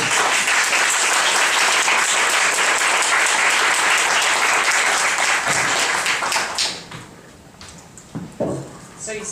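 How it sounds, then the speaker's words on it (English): Audience applause at the close of a screening panel on the Hong Kong journey twenty years after the Beijing Platform, a dense, steady clapping from a full room that thins and fades out over the last few seconds. "And a big round of applause"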